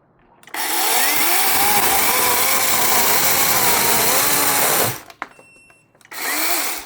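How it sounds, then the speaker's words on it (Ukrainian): A battery-powered saw whines loudly as it cuts through a log for several seconds, stops briefly, then starts again for a short burst. "А тепер ти несемо кусок бревна і попробуємо нею порізати."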